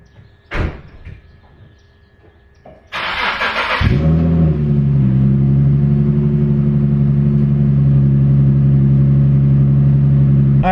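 An Infiniti G37 coupe with a 6-speed is started in a garage: a door thud and a clunk, then the starter whirs and the engine catches with a rev before settling into a steady, smooth idle hum.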